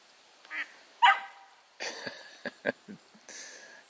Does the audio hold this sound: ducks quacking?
yes